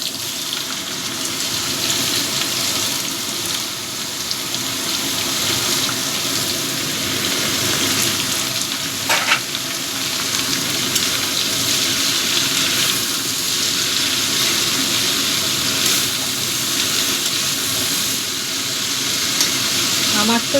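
Pieces of ash gourd drop into hot oil that already holds fried whole spices. A loud, even sizzle and hiss carries steadily from start to finish.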